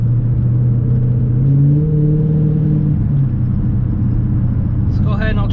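A Dodge Charger SRT accelerating hard with its wheels spinning for traction: a loud, sustained engine drone rising in pitch, heard from inside the car.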